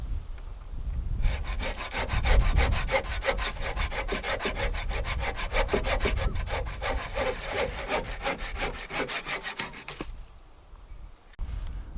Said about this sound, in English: Because of the problem with the wood boring insect in my barge pole, I've decided to cut a length off.